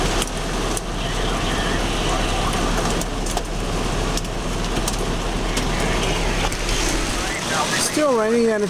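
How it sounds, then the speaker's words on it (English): Heavy rain falling during a severe storm in Nebraska, a constant loud hiss of downpour that fills the whole stretch, with a brief wavering tonal sound near the end. "Still raining"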